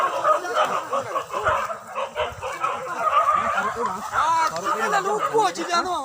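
Several dogs bark and yelp in overlapping bursts during a wild boar hunt, with other animal calls mixed into a busy outdoor scene.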